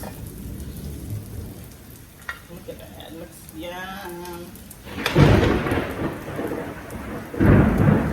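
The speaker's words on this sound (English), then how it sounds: "It is thundering here this afternoon." Deep rolling thunder booms twice over steady rain, following a short stretch of a person speaking.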